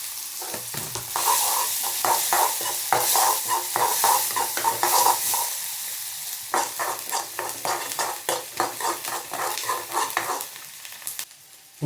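Chopped chilli, tomato and onion frying for masala egg bhurji, with a steady sizzle under rapid, rhythmic scraping and stirring of a spatula against the pan, pausing briefly midway before resuming.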